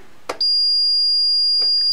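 A Paradox security alarm panel sounds off after a zone is triggered, giving a loud, steady high-pitched electronic tone that starts abruptly and holds continuously, with a couple of brief clicks around it.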